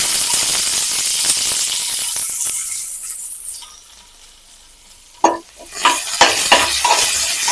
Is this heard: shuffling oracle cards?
no